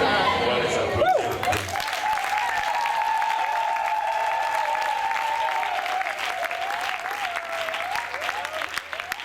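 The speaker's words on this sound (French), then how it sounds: "On va les applaudir." Wedding guests at a church ceremony applaud the bride and groom in steady, sustained clapping that fills the room, with cheers and voices mixed in over the crowd.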